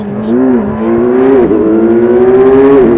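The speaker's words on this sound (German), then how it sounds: "Allein wenn ich diesen Sound hier höre, dann will ich sofort wieder eine Kawasaki" A Kawasaki motorcycle engine revs loud and close, its pitch rising and dipping through a couple of throttle blips before holding a steady high drone, with no voices.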